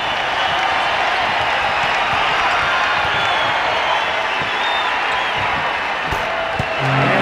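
Houston Rockets home arena crowd roaring and cheering during a 1994 playoff game against Phoenix, a dense, steady wall of noise with scattered applause throughout.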